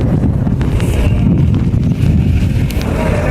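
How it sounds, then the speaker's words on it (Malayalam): Steady wind gusts buffet the microphone on an open hilltop viewpoint, a continuous loud low rumble with faint rustling and no speech. "എനിക്ക് കാറ്റടിക്കുന്നതാണ്."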